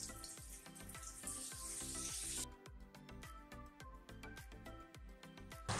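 Fried potatoes sizzling in a pan as a spice mix of salt, turmeric and a little sugar goes in, a steady close frying hiss over a rhythmic run of stirring scrapes.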